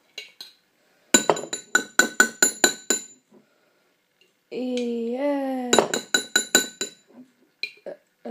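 A spoon clinks against a bowl while baking: rapid runs of bright, ringing taps, about seven in one burst and six in another, close and clear, with a voice speaking in between.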